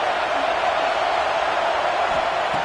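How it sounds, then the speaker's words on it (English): Steady stadium crowd roar from a college football video game, a dense, continuous wash of fan noise at a tough road venue, loud and unbroken throughout with no distinct voices. "Listen to the crowd energy here in the early going."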